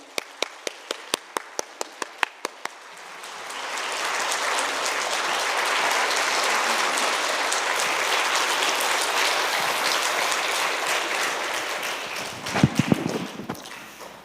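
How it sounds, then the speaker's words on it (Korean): A church congregation at a Wednesday evening service welcomes a speaker with applause: a few single claps first, then a long, full swell of clapping that fades, ending with some nearby thumps. "큰 박수로 환영하겠습니다"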